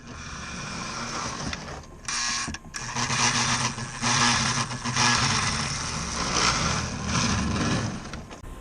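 A Lionel postwar diesel model train engine runs roughly, its motor giving a continuous growling, rattling whir that briefly drops out, then resumes louder and grinding, close up with no talking.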